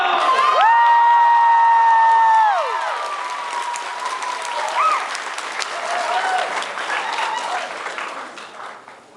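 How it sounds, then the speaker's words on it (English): An audience at a dance competition at a furry convention applauds and cheers, with loud clapping and whoops at the start under sustained musical tones, easing to scattered clapping and crowd noise afterward. "Everyone again, a big round of applause."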